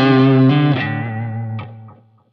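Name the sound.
electric guitar, Strat neck pickup through Helix effects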